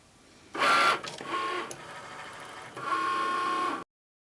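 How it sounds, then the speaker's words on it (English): A Cricut Maker works on fabric with a fabric pen and rotary blade, giving a close mechanical whirring and buzzing in bursts with short pauses before stopping abruptly. "press the Cricut button and watch the fabric pen mark and the rotary blade will cut."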